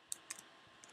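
A few faint, sparse keystrokes on a computer keyboard while entering a math function into graphing software, three soft clicks spaced apart in a quiet room.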